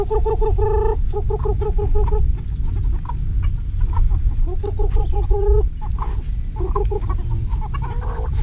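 Several chickens cluck loudly and repeatedly nearby in choppy bursts over a constant background hum.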